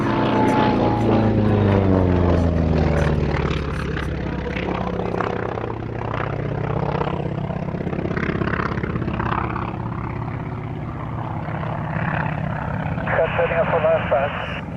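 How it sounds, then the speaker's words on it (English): A Grumman F4F Wildcat propeller fighter running in at an air show, a loud sustained engine drone with shifting pitch that sweeps past, with crowd or commentary noise underneath. "the Wildcat running in"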